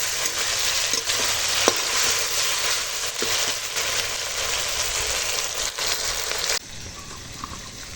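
Onion, green chili, tomato and ginger-garlic paste fry with salt in hot oil for a cauliflower curry, a dense, steady sizzle close up with faint stirring clicks, then quieting near the end.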